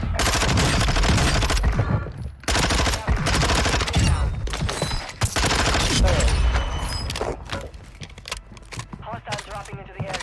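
Rapid gunfire from a Warzone 2 match on Ashika Island: dense automatic bursts and overlapping shots in the first half, then thinner scattered fire, mixed with game voice callouts.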